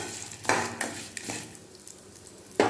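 Ridge gourd chutney ingredients with tamarind and dried red chillies sautéed in a pan, heard as a few sharp scraping stirs of a spatula over a faint background sizzle.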